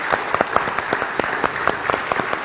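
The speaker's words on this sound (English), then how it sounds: "And then let's give them a hug by clapping" A church congregation claps together, a steady patter of many hands with sharper individual claps standing out, continuous and moderately loud.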